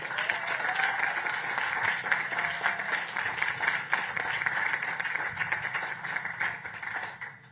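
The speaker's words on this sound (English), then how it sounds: "Please join me with another round of applause for Pam and Ira." An audience applauds steadily at a ceremony announcing a housing and recovery collaborative, with dense, continuous clapping that fills the whole stretch at even loudness before tapering slightly at the end.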